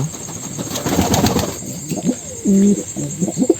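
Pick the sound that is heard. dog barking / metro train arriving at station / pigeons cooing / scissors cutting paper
pigeons cooing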